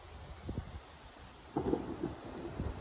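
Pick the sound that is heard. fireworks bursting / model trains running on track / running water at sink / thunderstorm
thunderstorm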